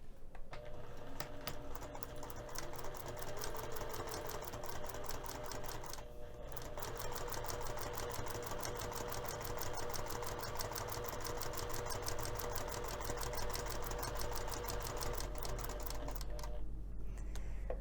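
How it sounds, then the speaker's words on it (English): A sewing machine stitches through layers of fabric for a messenger bag, its needle running in a fast continuous whir with short pauses near the middle and end. "I'm going to take this over to the sewing machine and I'm going to sew directly on top of the lines that I drew"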